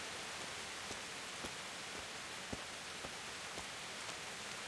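Steady rainfall in the medieval town of the video game Kingdom Come: Deliverance, a soft, even hiss with scattered faint drip ticks, quiet and continuous.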